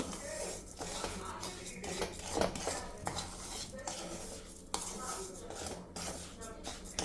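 Rava and sugar roast in a pan over a low flame, with a soft continuous crackle under repeated metallic scrapes and clinks of a spoon stirring against the pan.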